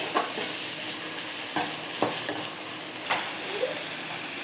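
Tomatoes sauté in a pan with a constant close sizzle, punctuated by a handful of stirring scrapes spaced about a second apart.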